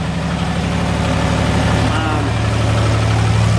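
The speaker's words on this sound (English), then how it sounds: "we just pump it in from the bottom" Pump moving manure into a tanker hitched to a 5-ton truck: a loud, steady engine-driven drone with a low hum and constant churning rumble, close up and continuous throughout.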